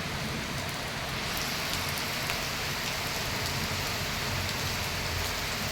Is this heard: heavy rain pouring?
yes